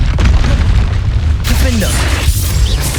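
Confringo blasting spell explosions from the video game Hogwarts Legacy, a loud deep boom followed by a second burst midway, with dense battle noise and low rumble throughout.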